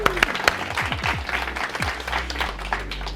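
An indoor audience at a live demonstration breaks into a short burst of applause, mixed handclaps close by, with a voice briefly speaking underneath.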